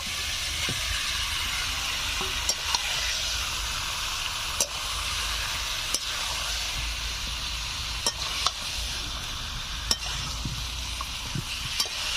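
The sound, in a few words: chicken, spices and fried potatoes being stir-fried in pan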